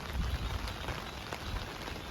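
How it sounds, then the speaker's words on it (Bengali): Light rain from Cyclone Remal patters steadily on surfaces outdoors, a soft even hiss of drops with faint wind rumble beneath, no voices. "হালকা ঝড় আর হালকা বৃষ্টি"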